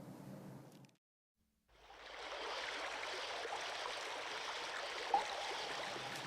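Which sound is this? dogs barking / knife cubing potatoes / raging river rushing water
raging river rushing water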